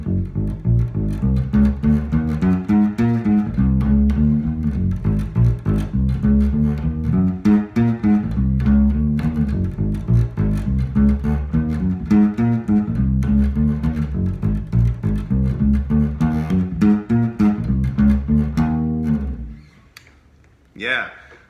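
Electric bass playing a funky walking bass line, a steady quarter-note pulse with chromatic approach notes, loud and continuous for about twenty seconds before stopping.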